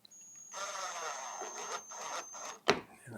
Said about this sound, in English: I'm going to put screws in